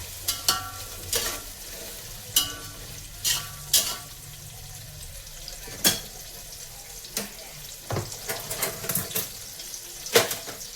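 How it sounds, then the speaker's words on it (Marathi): Onion frying in oil in a pan makes a soft, steady sizzle, broken by scattered sharp clicks and clatters from stirring at irregular intervals. "आपल्याला हे कांदा मस्त फ्राय करून घ्यायचं"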